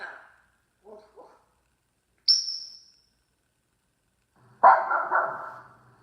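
A dog's bark played back through an Alexa smart speaker: after a short voice and a bright tone, a single loud, rough bark burst rings out near and clear, then trails off.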